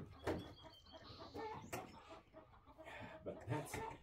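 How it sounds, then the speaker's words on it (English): Backyard hens chatter contentedly with soft, irregular clucks and murmuring calls, one louder squawk among them, heard faintly with light background noise. "I'm gonna say it's happy hen chatter."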